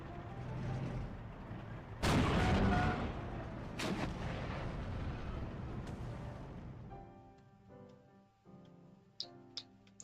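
A tank's secondary cannon fires in the wartime strategy game Steel Division 2, with a sharp, heavy blast booming over continuous battle rumble, more shots cracking through, then the noise thinning to faint ticks and clicks.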